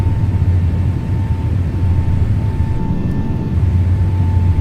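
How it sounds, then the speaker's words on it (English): Deep, steady rumble inside a simulated PMDG 777-300ER airliner as the landing gear retracts, a loud low drone over engine hum with a faint high tone running throughout. "Gear up. I feel the rumble."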